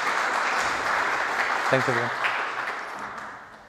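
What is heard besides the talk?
audience applause for conference speaker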